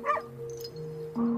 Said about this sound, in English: we don't need special equipment to hear dogs barking